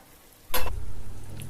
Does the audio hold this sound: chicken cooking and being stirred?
yes